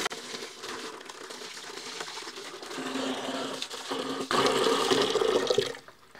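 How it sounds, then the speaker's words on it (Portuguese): Water in a container housing a pet crab is being cleaned out and changed at home, with close sloshing, pouring and splashing that grows louder toward the end before cutting off. "Agora eu vou fazer uma limpeza aqui na água,"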